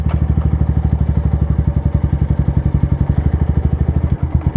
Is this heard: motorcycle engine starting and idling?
yes